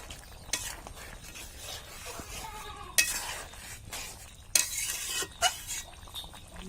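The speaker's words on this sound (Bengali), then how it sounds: "এটা ভালো করে নাড়াচাড়া দিয়ে দিচ্ছি।" A spoon stirs fish curry with green banana, papaya and freshly ground ginger in a sizzling pan, with soft scraping broken by several sharp clinks of metal against the pan.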